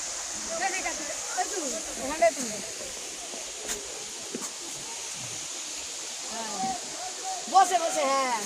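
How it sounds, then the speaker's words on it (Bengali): Waterfall at Rock Garden, Darjeeling, a steady broadband rush of falling water running throughout, with people talking nearby over it. "ওই তো ঝর্ণা ওই যে ঝর্ণা"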